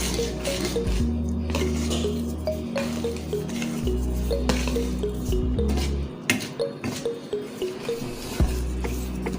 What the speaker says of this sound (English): This spatula is not making it easy for me to mix this batter